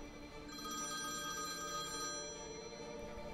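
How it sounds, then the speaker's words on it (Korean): A telephone bell rings continuously at a police station, a sustained bright ringing tone that stays steady and moderately loud throughout with no talk. "1996년 1월 12일 오후 8시 우한경찰서에 한 통의 전화가 걸려왔습니다"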